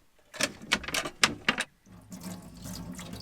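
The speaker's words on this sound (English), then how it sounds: "Yep, still using seawater to do our dishes." Dishes washed with seawater at a van campsite in Greece: several quick splashing bursts and clinks close by, followed by a softer continuous rinse.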